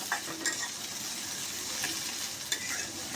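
Chopped onions fry in hot oil as they are stirred, a bright, constant sizzle with light, intermittent scraping taps from the spoon.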